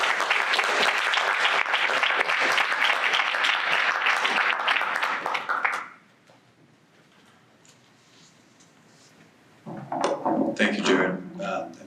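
Audience applause welcoming poet Noah Warren to a reading, a loud sustained burst of clapping that fades out, followed by quiet and then a second, shorter round of clapping near the end.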